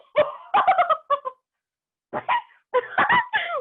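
A voice imitates a pet puppy barking as a storytelling sound effect: two quick bursts of sharp, yappy barks, close and clear, separated by a short silence.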